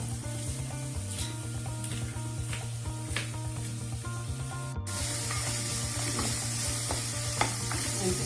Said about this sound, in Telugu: ఫ్రై అవుతుంది ఉల్లిపాయ